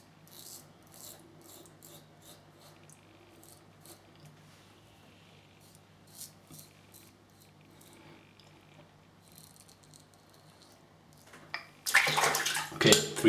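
A Muhle Rocca safety razor makes faint, brief scraping strokes across stubble in a quiet room. A loud burst of running water from a tap follows at the end.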